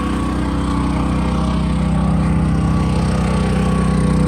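A Rockpals 3000-watt inverter generator runs under load with a heater switched on, giving a steady, close engine drone with a constant low hum and no talking.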